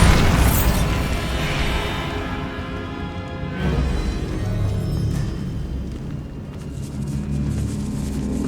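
In the video game Hogwarts Legacy, the Bombarda spell sets off a loud explosion: a sharp blast opens, then a rumbling, crackling roar continues under steady game ambience.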